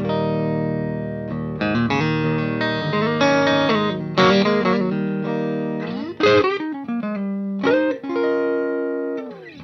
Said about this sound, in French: le son clair il est là.